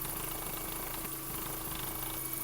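A 2009 Skoda Octavia A5 with a 1.6 MPI petrol engine idling, a steady even hum heard close and alone.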